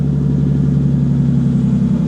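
A neglected Bentley GT that has been standing for a long time idles just after starting, giving a steady, close, loud engine drone with a low pulsing hum.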